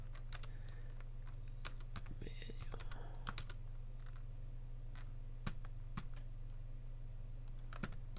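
Computer keyboard keys are tapped in quiet, irregular clusters of crisp clicks over a constant low electrical hum.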